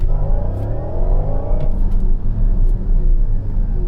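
A Porsche Cayenne EV accelerates hard, giving a loud, continuous drive rumble with a rising whine that builds over the first seconds and then holds steady.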